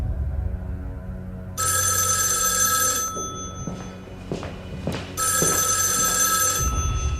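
An old telephone bell rings in two long, loud bursts with a pause between, heard indoors during a tense scene in a 1948 Beiping bank drama, with low background sounds under the ringing.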